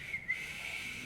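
A thin, breathy whistle attempt wavers at one pitch over airy hissing, short and weak, close by.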